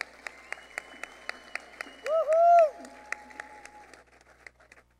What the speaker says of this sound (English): Another warm round of applause for Ms. Fonte, please.